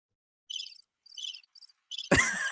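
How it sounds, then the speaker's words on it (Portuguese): Cricket chirping sound effect: three or four short, clear bursts of high trilling, evenly spaced, played alone before a louder, different sound cuts in at the end. "É o grilo."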